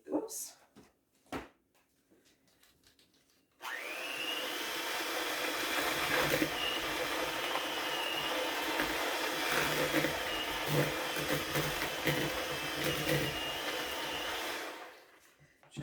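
An electric hand mixer beats cookie dough for Valentine's cookies, starting abruptly and running as a loud, steady whir for about eleven seconds before cutting off, with brief handling knocks and a voice before it starts.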